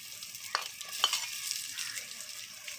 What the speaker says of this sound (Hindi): इसको हल्का सा भून लेंगे। इसमें टमाटर ऐड कर लेंगे